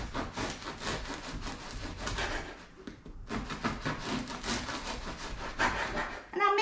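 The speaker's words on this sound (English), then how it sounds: "So I'm going to cut this into cubes or pieces." Stale bread being cut into cubes for bread pudding: a steady, scratchy sawing of a knife through crusty bread, repeated strokes with a brief pause midway, close and fairly loud.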